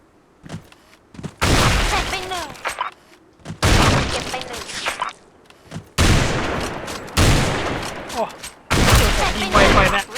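Loud, close rifle fire from a Barrett Siege in the video game Special Force 2, arriving as four or five heavy bursts with sharp onsets and echoing tails, separated by short gaps with a voice talking underneath.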